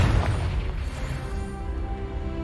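A Confringo blasting spell goes off in Hogwarts Legacy with a deep, heavy boom that hits loud at the start and then rolls off into a rumbling, fading tail.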